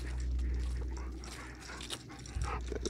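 Charlie, an energetic pet dog, pants rapidly up close and gives a few thin whimpers over a low background hum, all within a few seconds.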